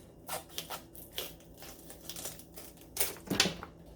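A knife cuts the tough stem off a raw cauliflower. Faint, close crunches and snaps come in irregular bursts, with a sharper crack near the end.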